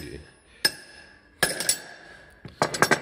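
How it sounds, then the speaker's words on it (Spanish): A hammer strikes a stuck screw on the brake disc of a Suzuki GSX-R 750, three sharp metallic blows, the last a quick cluster of ringing hits, close and loud in a quiet workshop. "Martillazo y a ver si"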